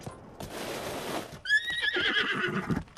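A horse in the video game Breath of the Wild lets out a loud, close whinny after a brief rushing noise, with faint hoof clip-clops around it.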